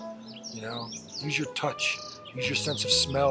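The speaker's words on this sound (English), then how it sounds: "Listen to the birds chirping" Outdoor birds chirp in quick, high tweets while a calm voice speaks over them, the calls weaving between the spoken words at moderate volume.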